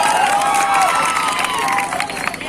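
A large crowd at a political rally in Bihar cheers and applauds in a dense, continuous wash of noise, with whistles and shouts rising through it.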